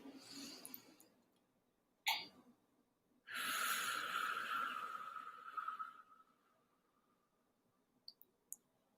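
Slow, controlled breathing during a relaxation exercise: a short sharp intake, then a long steady airy exhale fading out, followed by quiet and a couple of faint clicks.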